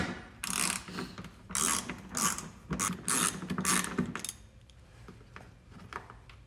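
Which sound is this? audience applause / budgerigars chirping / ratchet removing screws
ratchet removing screws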